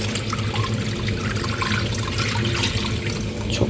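Muddy rinse water from washing vegetables for homemade pickles poured out in a steady close gush, running continuously and fairly loudly with no talking.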